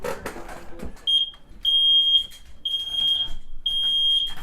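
Smoke alarm being tested in a home, a 10-year lithium-battery unit: a dry shrill tone sounds in four bursts of roughly half a second each, loud and close, after some brief handling noise and with no voices.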